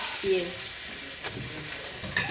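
Two bay leaves dropped into hot oil with cumin as the base for a tilapia fish curry, a continuous close sizzle and crackle with a brief stir and a sharp tap near the end.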